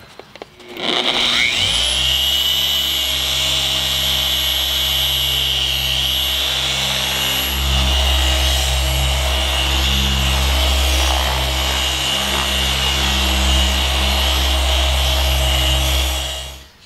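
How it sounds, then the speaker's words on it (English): A machine polisher with Meguiar's M105 compound works the paint of a 240 car. The motor spins up quickly to a loud, constant hum and whine that holds steady throughout before winding down at the end, with no talking. "we're gonna be basically polishing out all the small imperfections that are in the paint."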